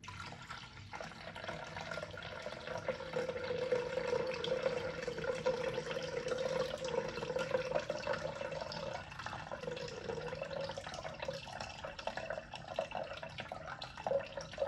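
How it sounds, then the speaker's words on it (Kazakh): Filtered water pours steadily into a Thermomix bowl for a recipe of oat porridge with milk, a continuous faint trickling fill lasting the whole stretch with no talking. "үстіне 600 граммдай фильтрден алынған суды қосамын"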